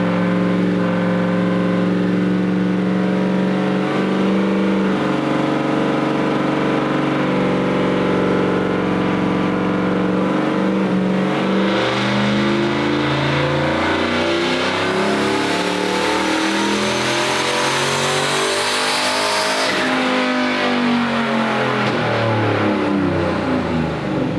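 A turbocharged car strapped to a dyno revs hard through a full pull, its loud engine note climbing steadily in pitch for over twenty seconds before cutting off abruptly near the end.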